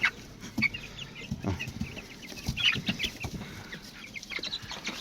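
Chickens bought from the market cluck in a backyard flock with a single male bird among them, scattered close clucks and short calls over a faint, busy background.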